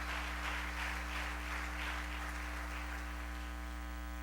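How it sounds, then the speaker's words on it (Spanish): Church congregation applauding steadily, a broad wash of clapping that fades slightly toward the end, with a low organ or keyboard hum sustained underneath. "Denle ese aplauso a la gloria de Dios."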